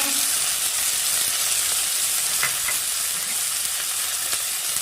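Spice paste of onion, cumin, turmeric, chilli and salt frying in a pan for a fish curry with potato and eggplant, giving a continuous loud sizzle with a few faint stirring knocks.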